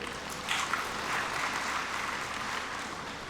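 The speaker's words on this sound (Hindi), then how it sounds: "उनके लिए एक जोरदार तालियां बजाइए।" A gathered audience applauds at a public event, a soft, distant spread of clapping at low volume that holds evenly for a few seconds with no talk over it.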